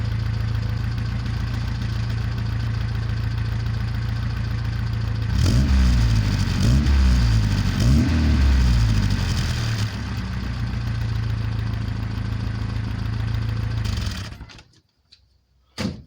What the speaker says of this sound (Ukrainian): Таким повинен бути звук вихлопу на новому і якісному глушнику.